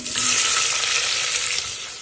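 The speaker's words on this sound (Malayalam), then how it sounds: "ഈ തക്കാളി മൊത്തം അതിലേക്ക് ഇട്ട് വാട്ടണം." Tomatoes hit hot coconut oil with cumin and pepper, a loud, close, bright sizzle that flares up at once and slowly eases over two seconds.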